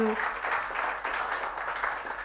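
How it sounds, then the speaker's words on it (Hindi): Steady applause fills the room at a book release event, a dense wash of clapping from an audience that carries on throughout. "तो एक बार जोरदार तालियों के साथ"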